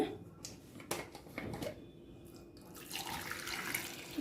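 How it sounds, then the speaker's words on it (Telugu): Water runs and splashes into a pressure cooker holding cut potatoes. The pouring is fairly faint and close, with a few clinks and knocks of the vessel. "ఇందులో వాటర్ యాడ్ చేసుకుందాము"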